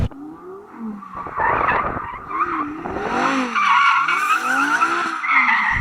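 A 620hp Audi R8 GT launches in rear-wheel drive at a drag race, its tires squealing and skidding as the revving engine climbs and dips for several seconds. It sounds loud and close, with no talk.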